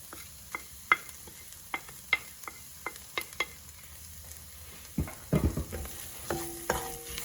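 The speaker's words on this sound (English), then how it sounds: "I'm going to mix these in with the onions really well and cook for a further 5 minutes" Onions frying in a pan with dried basil, oregano, garlic and sweet smoked paprika stirred in, a soft steady sizzle broken by sharp spoon clicks and scrapes in an irregular rhythm, then a louder clattering stir near the end.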